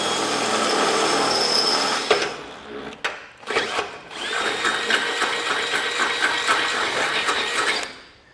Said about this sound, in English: And for this, I'm using a 25/64 drill bit.